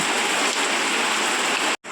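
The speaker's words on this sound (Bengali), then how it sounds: "আর এখন দেখি প্রচণ্ড বৃষ্টি" Heavy rain pours steadily in a dense, loud hiss, with a brief drop-out near the end.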